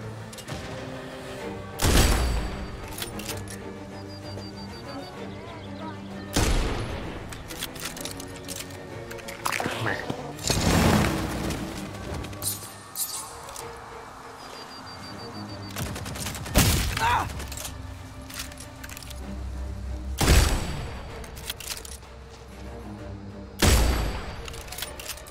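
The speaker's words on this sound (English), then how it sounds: "gotta love sniper rifles" Sniper rifle shots in a video game crack out one at a time, six or so loud, widely spaced blasts over a low ambient bed, each with a short decaying tail.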